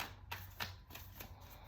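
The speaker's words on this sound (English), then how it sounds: "I'm going to shuffle again and see what comes through" Tarot cards are shuffled in a few quick riffling bursts, close and fairly quiet, separated by short pauses, with no talking over them.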